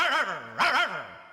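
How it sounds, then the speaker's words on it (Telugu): A dog close by gives two short, whiny yelping cries in quick succession, each rising and then trailing down, with a brief pause between them. "ఏంటే కుక్క అట్టా సొస్తున్నావు?"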